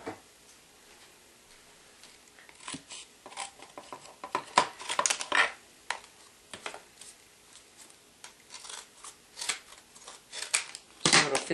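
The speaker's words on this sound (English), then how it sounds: "So I need to cut my corners off." Scissors snipping the corners off chipboard for a Cuttlebug die-cut machine, a series of crisp close clicks and snips in irregular bursts, quiet between cuts.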